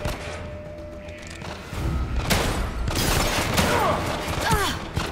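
Gunfire in The Evil Within 2 game, a burst of loud close shots and thudding booms mixed with game sounds, with someone talking over the action.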